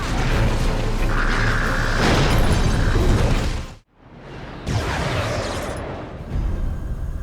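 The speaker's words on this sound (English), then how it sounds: "Orbital bombardment incoming!" Orbital bombardment in the Warhammer 40k game Dawn of War 2 Retribution, heavy rumbling explosions and crashing blasts, then a sudden near-silent gap before further booming impacts follow.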